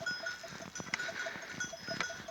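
Newly bought goats on a hillside farm, with a livestock bell clanking in repeated soft strikes amid faint bleats and rustling, all moderately distant and fairly quiet.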